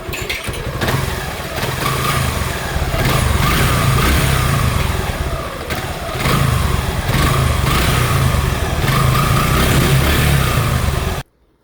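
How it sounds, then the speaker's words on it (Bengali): Motorcycle engine with a sound problem, running steadily in a repair shop, a loud continuous idle with surging swells before cutting off abruptly at the end, no talking over it. "তো এই বাইকটার হচ্ছে ইঞ্জিন সাউন্ড প্রবলেম তো আমরা হিট করে আপনাদেরকে সাউন্ডটা আমরা শোনাবো"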